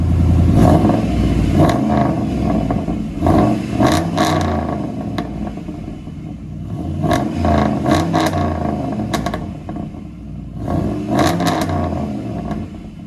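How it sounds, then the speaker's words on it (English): A Dodge 4.7L V8 Magnum with true dual exhaust and two Flow FX mufflers rumbles loudly and close, with several sharp revs rising over a deep idle and no talking. "So it's true dual with Flow FX, 2 Flow FX mufflers, right there."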